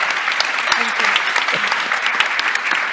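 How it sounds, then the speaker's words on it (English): An audience gives a round of applause after a business talk on blockchain, with dense, steady hand clapping filling the room at a moderate distance and faint voices mixed underneath. "Round of applause if it was useful."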